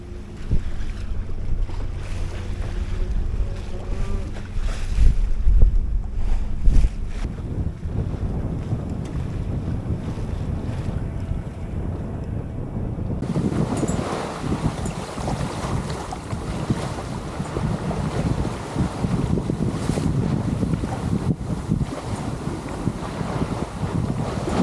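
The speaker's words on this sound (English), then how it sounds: "there's some good wind out here" Strong wind buffets the microphone aboard a sailboat at sea, over rushing water and hull noise, a steady roar that grows heavier and broader midway through.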